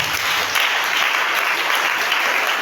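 A church congregation claps steadily and loudly to acclaim Jesus, dense sustained applause filling the room throughout with faint crowd murmur beneath.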